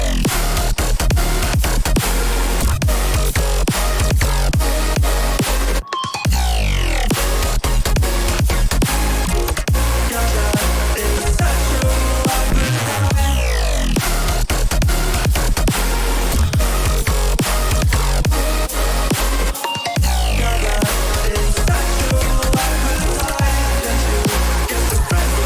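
Recorded melodic dubstep drop from a remix, dense heavy bass and punchy drums filling the whole stretch, loud and continuous with two brief cuts to silence.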